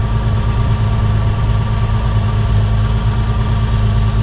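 A car engine idles steadily and close by after bigger E85 fuel injectors are fitted, a continuous low rumbling hum with no revving and no talk.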